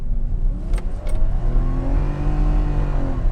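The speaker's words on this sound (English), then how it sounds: "One wheel peel, that open diff." BMW E30 track and drift build on coilovers doing a one-wheel peel through its open differential: a steady, loud engine drone with tire spin running under it, close by and continuous. Two short bright chirps come early.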